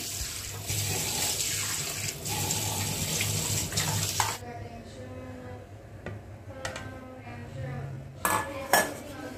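Dishes clatter and cutlery clinks in a sink as tap water runs steadily, then the water stops and a few sharp clanks of pots follow.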